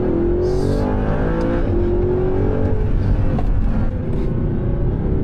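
An Audi R8 accelerates hard along a winding mountain road, its engine loud and close, revving up through rising tones with brief lifts and shifts between bursts of throttle.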